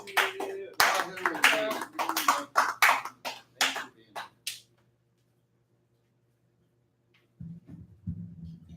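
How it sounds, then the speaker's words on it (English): Scattered, uneven hand claps from a small audience at a stage show, about a dozen sharp claps over four seconds before falling silent; a low hum lingers and a brief voice returns near the end. "everybody, give them a round of applause"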